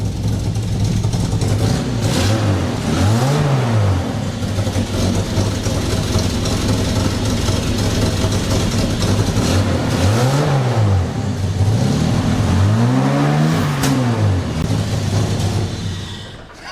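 An old Jaguar barn-find car, run after twenty years, revs repeatedly with a massive exhaust hole underneath: loud rasping engine drone with several rising-and-falling rev swells, close by.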